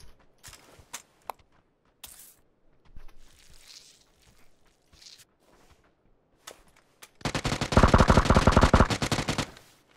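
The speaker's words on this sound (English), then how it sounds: "Oh, I see those people that are shooting" Bursts of automatic gunfire in PUBG, scattered sharp single shots early on, then a loud sustained rattling burst near the end, with faint footsteps between.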